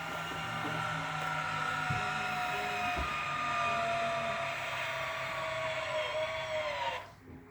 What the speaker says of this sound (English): And you'll hear the motor mover then start engaging against the wheel.